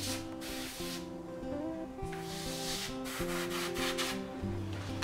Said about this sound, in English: you stick the Copic pens into the gun, and you're ready to start airbrushing